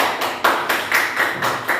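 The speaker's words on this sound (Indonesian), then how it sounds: "tepuk tangan dulu untuk Kananta ya" Classroom applause for a student's good question, a run of rhythmic claps repeating about every quarter second, fairly close and alone with no talk over it.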